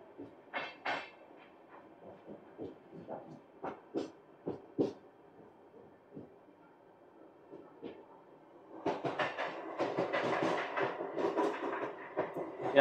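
A local train runs along railway tracks near Mumbai. Sparse, sharp wheel clacks come first, then a louder, continuous rumbling rush of the passing train builds near the end.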